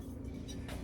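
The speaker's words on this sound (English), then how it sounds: "if y'all can hear my dryer going in the background" A steady, low mechanical rumble from a clothes dryer churns along quietly in the background, with no voices.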